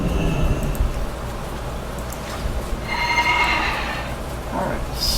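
Horses in World of Warcraft Legion whinny amid running hoofbeats and game ambience, a bright neigh rising midway and another short call near the end over a busy rumbling background.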